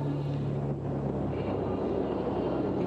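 Indian Air Force aircraft flying past over the Republic Day parade on Kartavya Path, heard as a steady, broad roar of engines with a low droning hum, continuous and fairly distant throughout.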